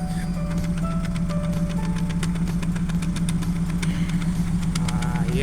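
A Chevrolet Aveo idles with a cylinder misfire, heard close at the exhaust. The steady engine drone carries irregular ticks and puffs, with no talk over it.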